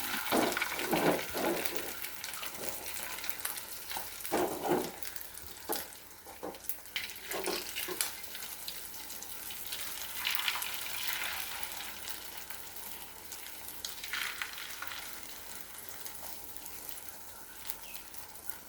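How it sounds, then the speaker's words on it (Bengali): Eggs frying in a black iron wok, a steady close sizzle with occasional scraping and stirring sounds, no voices. "কালো কড়াইতে ডিম ভাজি করব আজকে"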